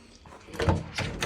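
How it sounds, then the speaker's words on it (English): A door to a dark water supply closet opens with a soft thunk and rattle, followed by a brief second knock, close and fairly quiet. "First thing you're gonna do is you're gonna come to this door and you're gonna open it up."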